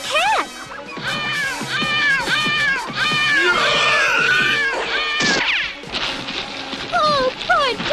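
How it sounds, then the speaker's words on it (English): A cartoon cat yowls and caterwauls in loud, wavering cries that repeat rapidly and rise and fall in pitch, mixed with frantic animated sound effects and a sharp burst midway. "the cat."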